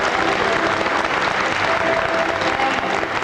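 A round of applause from an audience greeting a healthcare network's executive director at a show, dense and even clapping that holds at full strength throughout.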